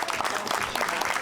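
An outdoor crowd at a trail race finish at Nature's Harmony Ecolodge in Mattawa, Ontario, gives a steady, dense round of applause, a continuous wash of many hands clapping at moderate distance.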